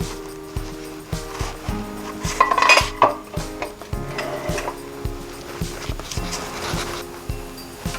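Vegetable cutlets are flipped in a pan, giving a steady run of light metallic taps and scrapes from a spatula against the cookware, with a brief louder clatter partway through.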